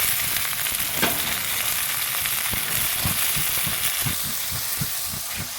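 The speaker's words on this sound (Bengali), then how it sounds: "গাজর আর আলু ভাজা হয়ে গেছে এখন দেবো বটবটি" Carrots, potatoes and other vegetables fry in a pan with a steady close sizzle, broken by repeated soft scraping knocks as they are stirred, and no talk.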